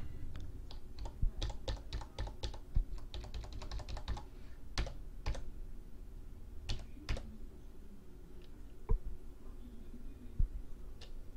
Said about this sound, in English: I'm pressing the semicolon key, but it's not doing anything. Okay, let's try other keys.